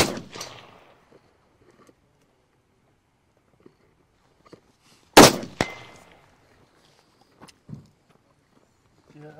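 An AR-10 rifle fired at an outdoor shooting range, one sharp loud shot with a short echoing tail in otherwise quiet surroundings, plus faint handling clicks and a brief voice at the start.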